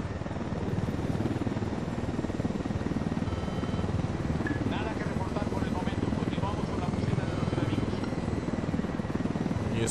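A slow helicopter flies in the video game Ghost Recon Wildlands, its rotor and engine roaring steadily for the whole stretch, loud and continuous, with players talking over it.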